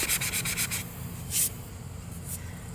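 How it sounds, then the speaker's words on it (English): Rapid back-and-forth scraping of a sanding sponge on an IKEA side table in a quick rhythmic burst, then a few slower, separate strokes, close and moderately quiet. "I'll try the sanding sponge and see what it does."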